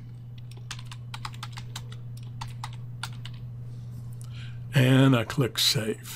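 A computer keyboard clatters as a workspace name is typed in Painter 2016, with a steady run of crisp keystrokes over a low hum, followed by a brief spoken line near the end.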